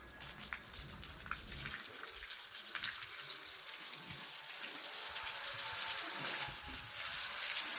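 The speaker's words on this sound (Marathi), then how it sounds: "आपण इथं पाणी मारतोय मोटर चालू केलेली आहे" Water sprayed from a hose fed by a running motor pump on a rooftop terrace, a steady, moderately distant hiss and splatter of spray that grows a little stronger throughout.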